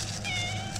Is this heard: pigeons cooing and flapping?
no